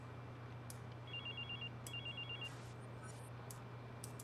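In the Watch Dogs game, a hacked guard's phone rings with two quick trilling electronic bursts over a constant low ambient drone, fairly quiet and without speech.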